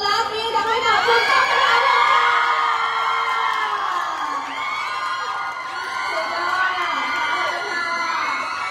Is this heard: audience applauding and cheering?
yes